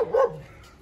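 A dog gives a single short, close bark that fades quickly into quiet background.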